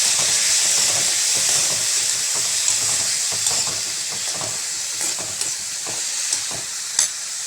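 Chopped vegetables for a Kerala mezhukkupuratti tumble into hot oil after the mustard seeds have popped, giving a steady, loud frying sizzle and hiss, with stirring scrapes and occasional sharp crackles.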